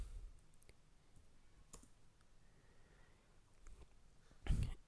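Sparse clicks of keys on a computer keyboard as Java code is typed, a few scattered taps and one louder burst near the end, close and quiet with no talk.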